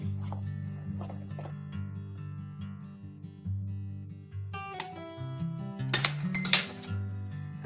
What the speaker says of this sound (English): And we just want to give that a quick tap in together. Give it a mix.